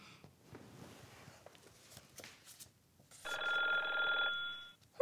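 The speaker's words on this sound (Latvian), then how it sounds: "Man zvana telefons." A telephone rings once in a single bright, buzzing burst lasting about a second, after faint rustling and quiet background sounds.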